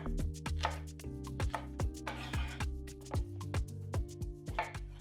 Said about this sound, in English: Then slice.